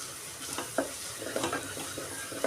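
Chicken pieces being mixed with red chili powder in a pan for a dry sukka chicken, giving soft, intermittent scraping stirs over a faint, low sizzle, with no talking.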